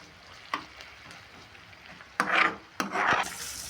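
Food frying in a pan: a low, quiet sizzle broken by a few louder, rasping bursts of stirring and scraping close by.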